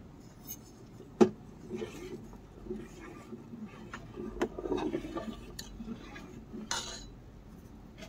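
Milk curdling in a pot for homemade paneer, stirred with a metal utensil, giving faint scraping and occasional sharp clinks against the pot, close and quiet, with a soft murmur of voice in the background.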